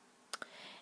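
Two quick, crisp keyboard clicks close together as a number is typed, faint and isolated against quiet room tone.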